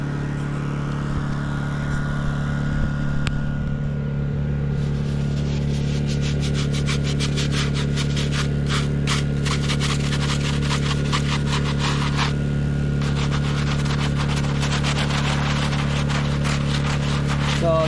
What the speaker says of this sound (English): Now we're gonna respray it with D2 and then we're gonna get really a good scrub on it